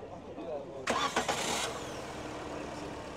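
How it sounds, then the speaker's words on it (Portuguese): A used car at an outdoor used-car fair in Caruaru cranks briefly and catches, then settles into a steady idle. People talk nearby through the start. "pedir para o amigo da partida aqui no motor. Vamos escutar o carro funcionando."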